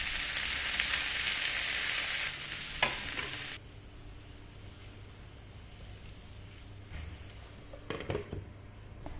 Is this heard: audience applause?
no